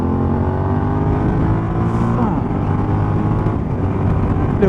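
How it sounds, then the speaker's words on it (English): A small sports car passes close by at low speed, its engine giving a loud, steady droning exhaust rumble that swells and shifts in pitch as it goes past. "Little fucking sports car doing bloody 30 mile an hour."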